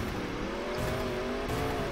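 A car engine in the Roblox Mad City game revs steadily with a sustained tonal drone, rising slightly in pitch, loud and continuous without voices.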